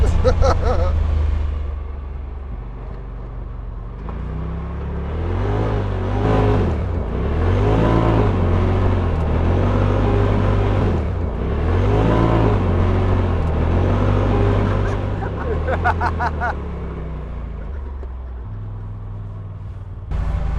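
A 2020 Polaris RZR Pro XP side-by-side drives with its engine droning loud and close, revving up and down in steady surges, while people talk over the noise.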